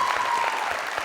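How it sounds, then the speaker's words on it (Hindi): A studio audience applauding the winner of a game on a talk show, a dense, sustained burst of clapping, loud and close, with a faint tone underneath. "ईमान के लिए बहुत सारी तालियां।"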